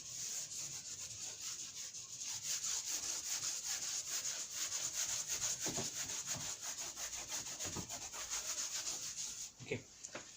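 Writing is rubbed off a board during a physics lesson: close, continuous scrubbing strokes scrape rhythmically for several seconds, then tail off into a few faint knocks.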